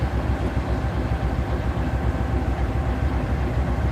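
A Norfolk Southern ES44DC diesel locomotive at DeButts Yard gives a steady, loud low rumble of idling engine and yard machinery, continuous and unbroken with no voices.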